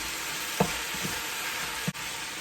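Beef mince for a Jamaican-style beef casserole frying in a pot, a dense, steady sizzle with a couple of soft knocks and a brief dip, close and even.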